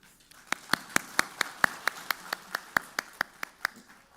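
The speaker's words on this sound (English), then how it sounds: "another round of applause" An audience at the ID4Africa 2022 identification event in Marrakesh claps in a steady, evenly spaced rhythm of about fifteen crisp, close beats, sparse and almost in unison rather than a dense wash of applause.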